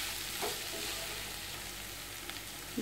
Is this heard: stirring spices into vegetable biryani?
yes